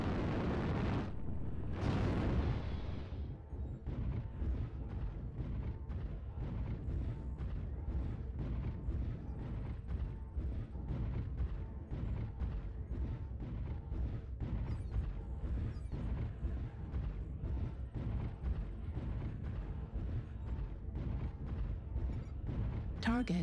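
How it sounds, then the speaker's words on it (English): Artillery strike in MechWarrior Online, opening with heavy close explosions followed by a long run of rapid, rhythmic booms and impacts, with players talking over the barrage. "Artillery strike online."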